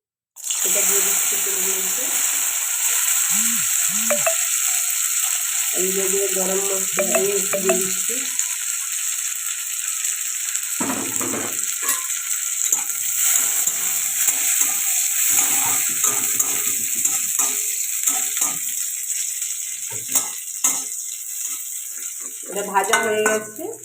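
Ghee sizzles and crackles steadily in a frying pan while cashews and raisins are prepared, a continuous close hiss with intermittent stirring and clattering throughout.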